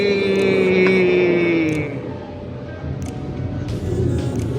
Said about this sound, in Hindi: और ये केबल कार की राइड स्टार्ट।